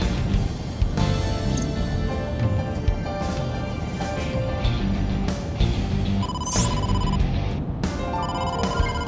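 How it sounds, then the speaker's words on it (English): Incoming-call ringtone from the video game AI: The Somnium Files, a bright electronic ringing melody repeating over several seconds alongside game music and effects, loud and clear with no talk. "incoming call from the boss"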